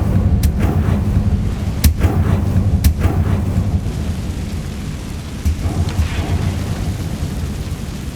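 The Incendio fire spell is cast in the Hogwarts Legacy video game: a few sharp, bright bursts crack over a low rumbling, crackling bed of sound, with no voices.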